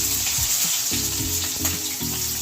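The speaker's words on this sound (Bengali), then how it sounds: "এবারে পেঁয়াজটা দেব" Onions dropped into hot oil with bay leaves for chana masala, a constant close sizzle with some soft stirring knocks, no voices.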